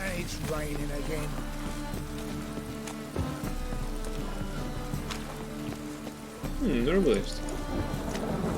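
Steady rain falls across an open-world fantasy setting in The Witcher 3, a continuous hiss that runs beneath game music and speech for the whole stretch.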